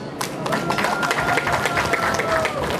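Wedding reception guests clap together in a steady, dense round of applause that fills the room, sustained and fairly loud throughout with a few voices mixed in.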